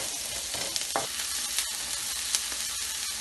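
Onions frying in oil in a pan, a steady close sizzle with a few scattered clicks and stirring knocks, loud and unbroken with no talk.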